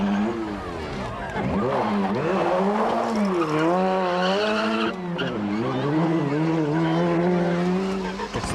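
A 1993 Stonethrowers Rally car driven hard on a stage by Luke McCarthy, its engine revving loudly with rising and falling pitch as it works the transmission through gear changes, continuous and close throughout.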